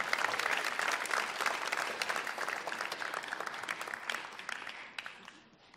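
A concert audience at a winter music show claps enthusiastically, with loud, dense applause at first that gradually thins into scattered claps as it fades.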